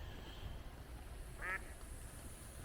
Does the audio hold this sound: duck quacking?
yes